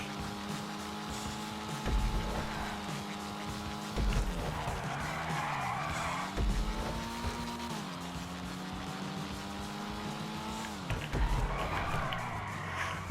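A car skidding and spinning out during a GTA V race, with engine drone shifting pitch and repeated tire scrubs and squeals over a few seconds, fairly quiet in the mix.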